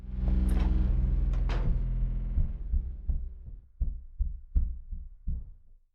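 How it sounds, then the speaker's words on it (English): Storeroom knocking noise from the video game Silent Hill 3: a low rumbling swell gives way to a run of about eight dull, evenly spaced knocks that sound muffled, as if coming from another room. "After that, we have the storeroom knocking noise."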